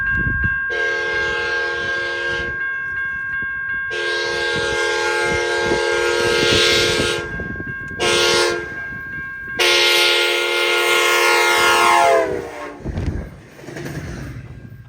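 A commuter train on the Trinity Railway Express line races past at high speed with a loud, sustained multi-tone horn in several long blasts. Heavy rail rumble and rushing wind carry on beneath the horn as the train passes close by.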